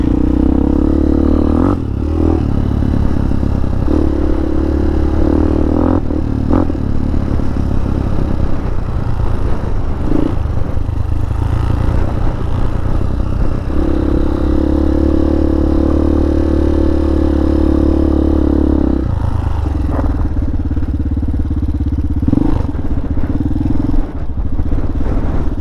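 Strong wind roars and buffets continuously at a motorcycle campsite on a solo moto-camping trip with a Hawk 250. A low rumble sits beneath shifting droning tones, with occasional clatters and scrapes.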